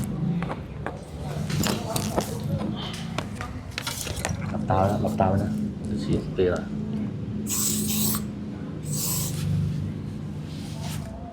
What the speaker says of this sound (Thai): ฉีดสเปรย์หน่อย